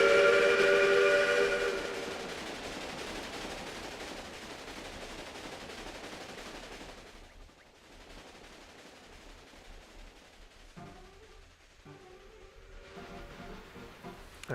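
A steam train whistles loudly at the start in the Railway Empire video game, then rolls on with a steady rumbling clatter that fades lower, with a few softer mechanical sounds after; no one speaks.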